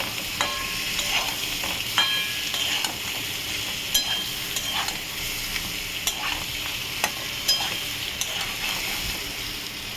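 Ground spices with turmeric fry in a pan for a shrimp curry, with a steady sizzle under rhythmic scraping and clicking as a spoon stirs them repeatedly.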